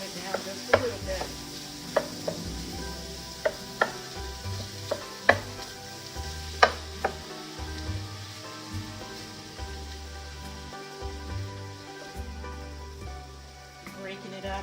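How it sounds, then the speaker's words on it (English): A wooden spoon knocks and scrapes in a pan as lean hamburger meat browns and is broken up, giving regular close taps over a low sizzle while a voice talks. "Breaking it up with my wooden spoon."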